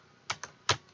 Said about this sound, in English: The number 2 on my keyboard is every time I press it, it comes loose.